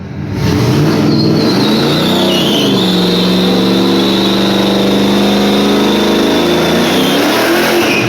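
A Camaro's engine revs hard and loud as the car pulls forward, a steady roaring drone with rising pitch that fills the whole stretch without a break.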